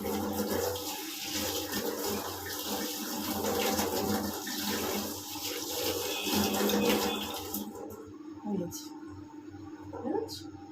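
Running water pours over plant roots as they are rinsed, a continuous splashing rush that cuts off near the end, leaving a few faint drips and handling sounds.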